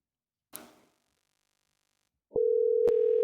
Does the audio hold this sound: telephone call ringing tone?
yes